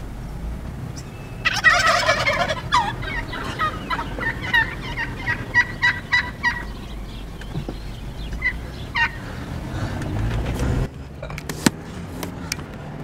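Wild turkeys on a ranch gobble loudly and close by, one rattling gobble followed by a string of shorter repeated calls, with a gust of wind or handling noise near the end.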